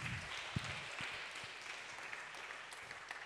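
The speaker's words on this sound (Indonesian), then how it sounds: "Tepuk tangan dulu untuk kalian semuanya." Audience clapping after a talk at an Indonesian Islamic seminar, a steady wash of many hands with a few sharper nearby claps, moderately distant and without voices.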